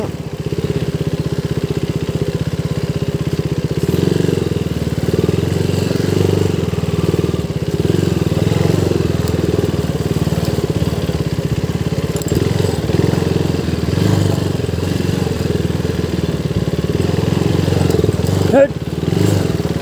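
A motorcycle engine drones steadily while riding a hilly mountain road in Bhojpur, Nepal, loud and close throughout, with rattling and a voice speaking over it at times.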